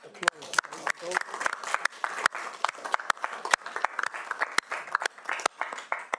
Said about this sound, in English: I'm quite happy to give applause